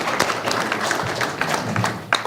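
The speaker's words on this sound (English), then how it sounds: "let's get a round of applause for that" Applause from an audience at a quiz competition, a short burst of steady, dense clapping that lasts the whole two seconds, moderately loud.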